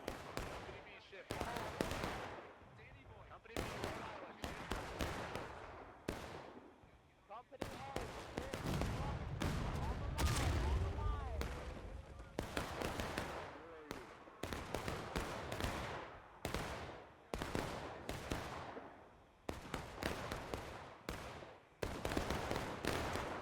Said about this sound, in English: Artillery's getting closer, but not hitting.